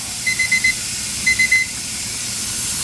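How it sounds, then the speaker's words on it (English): A kitchen timer beeps in two short bursts of rapid electronic chirps, sounding over a steady background hiss of a pressure canner. "my timer is about to go off"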